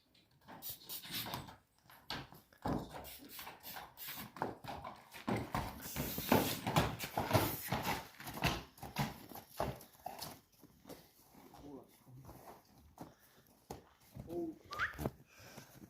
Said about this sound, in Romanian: Are mai mulți cai.